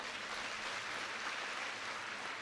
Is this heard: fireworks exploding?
no